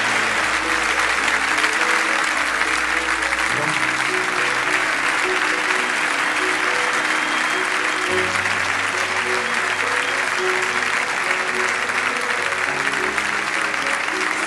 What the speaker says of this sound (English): a round of applause for the Danish captain with us tonight